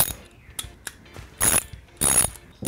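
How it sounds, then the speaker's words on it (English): A hand ratchet loosens bolts during the teardown of a Chevy 350 Vortec engine. It gives a few faint clicks and then two louder bursts of quick ratcheting clicks, close to the mic. "Alrighty, so we got all these bolts loosened up"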